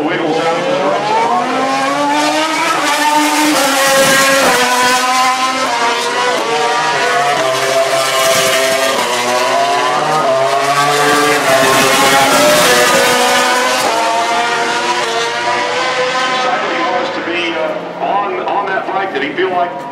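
MotoGP motorcycles racing at Laguna Seca in 2011, with Casey Stoner on bike 27: a loud, continuous high-revving engine whine rising and falling through gear changes, with commentators talking over it.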